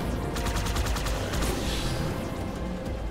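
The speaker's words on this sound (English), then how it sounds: "I'm just shooting people." Steady rapid gunfire in Halo 2 on Legendary difficulty, a dense rattle of automatic shots continuing without pause amid loud battle noise.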